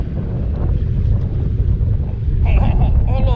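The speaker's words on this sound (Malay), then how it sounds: "Angin dah makin kuat." Strong wind buffets an inflatable fishing boat at sea, a loud continuous rumble of gusts against the microphone with water washing around, while a voice is briefly heard near the end.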